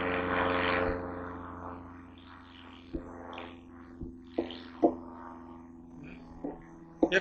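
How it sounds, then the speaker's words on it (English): An airplane passes overhead outdoors as a broad, fading engine rumble that is loudest at first, then thins into a distant drone beneath scattered nearby handling knocks and clicks. "See, we've got a plane up in the sky."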